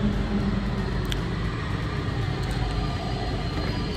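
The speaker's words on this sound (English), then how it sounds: "Oh my gosh, the train is almost here." A train pulls into a station, a steady broad low rumble of wheels and carriages lasting throughout, with a few faint higher tones over it and no talking.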